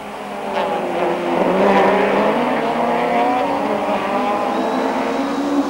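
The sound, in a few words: touring race cars flying past the pits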